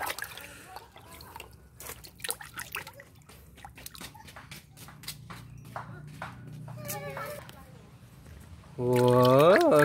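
Water drips and splashes as muddy toys (a dinosaur, Doraemon, a train, a duck and an elephant) are washed, with scattered close taps and trickles, while a person talks almost throughout.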